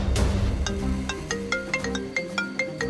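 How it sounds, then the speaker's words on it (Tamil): An incoming call rings on a mobile phone: a bright synthesized ringtone melody of short repeated tonal notes in a quick rhythm, clear and close, with no talking. "இப்ப சூரிய மாமாக்கு ஃபோன் வருது"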